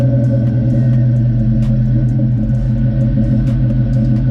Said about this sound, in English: Let you guys hear the exhaust.